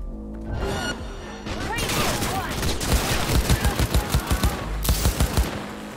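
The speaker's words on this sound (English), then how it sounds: "Heard shots." Gunfire rattles in Cyberpunk 2077 as rapid, close bursts of shots in a steady rhythm, dense and loud amid other combat noise, with a fresh burst near the end.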